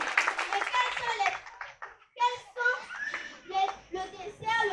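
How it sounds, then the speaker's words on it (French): Scattered hand clapping at a school event, mostly in the first two seconds, while children's voices and speech carry on over and after it. "Merci, on applaudit."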